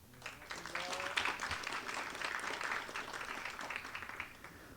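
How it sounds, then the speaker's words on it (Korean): Audience at a citizens' debate forum on urban development applauds to welcome guests, steady moderate clapping from a hall crowd that rises quickly and holds, with a brief voice near the start. "큰 박수로 맞이하여 주시기 바랍니다"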